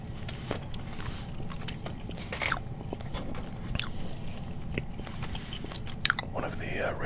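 Orbit Bubble Mint gum is chewed close to the mic, with soft wet smacks and faint crunches repeating steadily over a quiet background.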